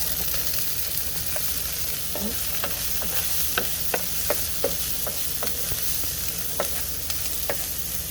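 Onions sautéing in hot oil for menudo give a continuous dense sizzle, punctuated by repeated sharp spoon clinks and scrapes against the pan, close up with no speech.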